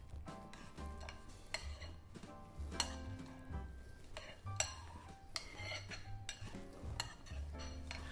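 A spoon clinks and scrapes against a bowl while Ugadi pachadi, an Andhra-style festive chutney with crunchy roasted gram dal, is stirred together, a steady run of small metallic taps and knocks close by.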